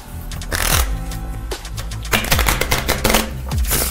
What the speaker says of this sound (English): Shuffle the cards for me.